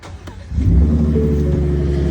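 A big Ford F-150 Raptor pickup truck's 3.5-liter twin-turbo V6 EcoBoost engine fires up and rises into a deep, throaty rev, rumbling loud and close with no talking.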